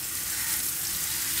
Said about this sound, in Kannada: ಇವಾಗ ಇದು ಚೆನ್ನಾಗಿ ಫ್ರೈ ಆದಮೇಲೆ ಚಿಕನ್ಗೆ ಮಿಕ್ಸ್ ಮಾಡಿದ್ರೆ ಚಿಕನ್ ಗ್ರೇವಿ ರೆಡಿ